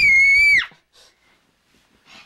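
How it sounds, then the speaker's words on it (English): A child playing on a bed lets out one loud, shrill scream lasting about half a second, followed by near silence with faint rustling. "Who was screaming?"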